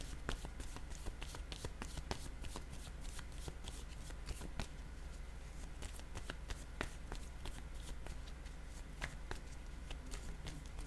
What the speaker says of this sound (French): Je vais prendre une carte de mon jeu haut.